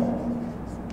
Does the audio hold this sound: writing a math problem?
yes